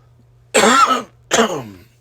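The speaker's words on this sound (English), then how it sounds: "Excuse my coughing and my hoarseness." Two harsh coughs, close and loud, separated by a brief pause, with a faint low hum underneath.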